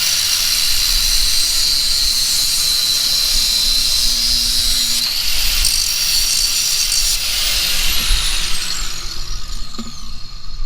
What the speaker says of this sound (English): we're going to cut this off, this end of this stud